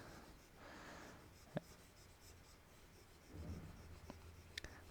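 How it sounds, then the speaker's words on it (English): Writing being erased from a board: soft rubbing swipes in two longer passes, faint and close, with a couple of light taps and no talking. "let me erase it out"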